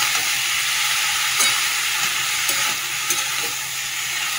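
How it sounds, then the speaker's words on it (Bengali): Banana flower is sautéed with spices in a pan, giving a loud, continuous close sizzle and hiss with a few brief scraping stirs and spatters, no voices. "এবারে আমি মোচাটা দিয়ে দেবো, দিয়ে মোচাটা দিয়ে একটু কষাবো"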